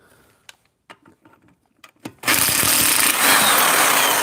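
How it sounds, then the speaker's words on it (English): A cheap electric Harbor Freight impact wrench removes the wheel nuts from a car. A few quiet clicks and handling knocks come first, then the wrench bursts into a loud, continuous rapid hammering buzz close by. "Cheap Harbor Freight impact wrench,"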